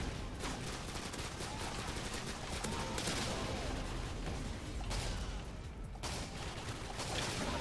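Automatic weapon fire in Modern Warfare 2 on PC rattles in rapid, dense bursts that fill most of the stretch, with brief pauses just before five seconds and around six seconds, loud and close.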